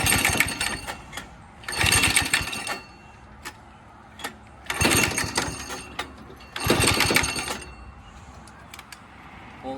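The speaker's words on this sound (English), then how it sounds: "Old engine." An old, worn go-kart engine revs in four loud bursts of buzzing, rattling power, dropping back to a rough idle between each surge, close by.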